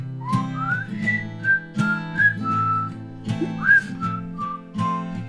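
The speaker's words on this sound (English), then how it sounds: "You whistle." Someone whistles a slow, wavering melody alone, clear and close, with several sustained notes sliding up and down.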